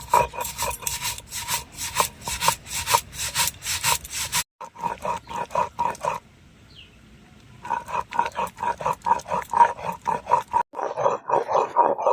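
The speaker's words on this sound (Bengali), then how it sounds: "তো দেখুন পোস্তটা আবার বেটে নেব।" Poppy seeds are ground into a paste with rhythmic back-and-forth rasping strokes, close and fairly loud, broken by a couple of short pauses before the grinding resumes. No one speaks.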